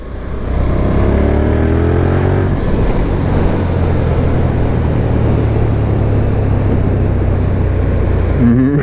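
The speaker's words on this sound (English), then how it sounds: "this is the first ride of the Superduke" A KTM 1290 Super Duke R motorcycle on its first ride, the engine loud and close, rising through the revs and then holding a steady heavy drone under strong wind rush.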